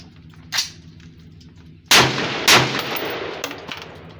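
A Colt rifle loaded with a steel magazine is fired during a function test of an undergassed build. One softer shot comes first, then two loud sharp reports about half a second apart, each ringing out, followed by fainter clanks.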